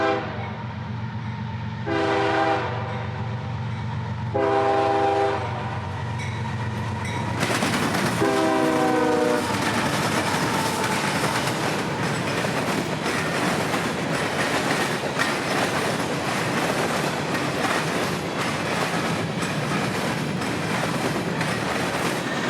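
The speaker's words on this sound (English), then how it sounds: "tonight with a nice consist of rock and miscellaneous freight led by 3 GE wide cabs" A freight train of rock and mixed freight led by three GE wide-cab locomotives sounds its horn in several long blasts, then thunders past close by with a steady rumbling roar and rhythmic clattering of wheels on the S Line in Central Florida.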